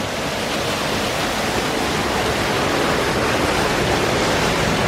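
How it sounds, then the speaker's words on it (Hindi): Indoor waterfall inside an aquarium in Bangkok, a steady, loud, close rush of falling water that fills the whole clip without pause and with no voices over it. "नीचे देखो वाटरफॉल भी है भाई जान"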